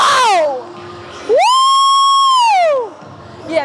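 Girls give a cheer, two loud high-pitched whooping shouts close by, the second held long and steady before falling off.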